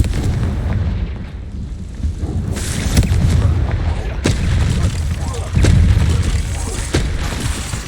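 Fiery spell blasts from Confringo cast in the game Hogwarts Legacy, booming explosions bursting repeatedly over a busy battle soundscape, loud and close, with a voice calling out spell names.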